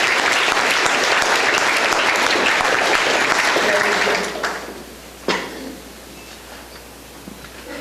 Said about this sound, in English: Let's give them a round of applause for their hard work.